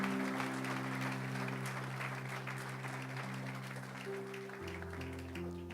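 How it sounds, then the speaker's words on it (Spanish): A church congregation claps loudly in praise during a Spanish-language sermon, a thick, continuous patter of many hands over sustained keyboard or organ chords that shift pitch partway through. "Aplaude fuerte al Señor"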